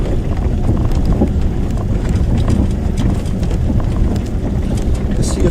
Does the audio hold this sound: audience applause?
no